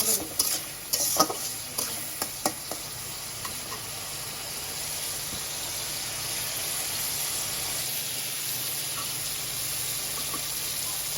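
Spices, turmeric and coriander, sizzle in hot oil as a utensil knocks and scrapes the pan in several quick strokes early on, then a steady, even frying hiss carries on alone.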